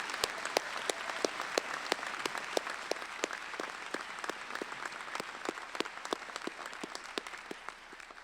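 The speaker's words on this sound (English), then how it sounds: "let's clap for you" Audience at a university engineering commencement ceremony clapping for graduates, a sustained, fairly distant round of applause with sharp individual claps standing out, fading slightly toward the end.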